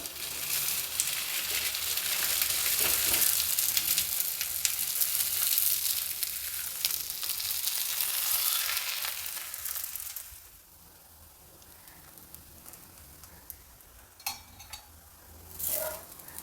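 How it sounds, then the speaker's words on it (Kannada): Roti cooking with oil on a hot griddle gives a steady, close sizzle and crackle for about ten seconds. It then drops to a quieter frying hiss broken by a few utensil clinks and scrapes. "ಈಗ ಹೆಂಚು ಬಿಸಿಯಾಗಿದೆ, ಸ್ವಲ್ಪ ಎಣ್ಣೆ ಹಾಕ್ಬಿಟ್ಟು ಬೇಯೋದಕ್ಕೆ ಹಾಕ್ತೀನಿ."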